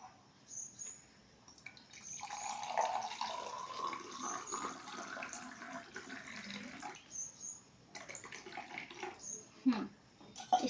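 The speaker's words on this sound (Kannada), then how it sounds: "ಇದಕ್ಕೆ ನೀರು ಹಾಕೊಳ್ಳೋಣ ನಾನು ಫಸ್ಟ್" Water poured into a container, making a faint continuous splashing gush that rises and falls over several seconds, with soft voices and household noise around it.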